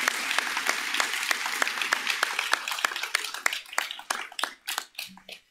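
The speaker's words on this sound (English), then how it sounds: "Can you give yourselves a round of applause?" A graduating crowd at a spring commencement for the Stamps School of Art and Design at the University of Michigan applauds: dense, steady clapping that gradually thins to a few isolated claps before fading out.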